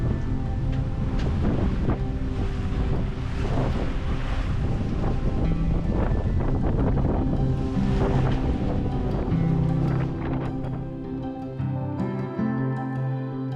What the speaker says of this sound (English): Waves, they're pretty big.